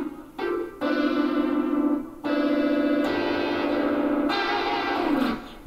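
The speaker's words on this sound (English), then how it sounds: "Yeah, kind of sounds like a spaceship, don't it?" A guitar run through a Zoom G2.1u multi-effects pedal on a modulation and special-effects setting gives a warbling, spacey sustained tone in several long swelling notes with brief gaps between them.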